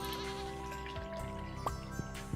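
A goat in Stardew Valley gives a short wavering bleat, followed by a few bright chime-like game blips against a steady background tone, with no talk.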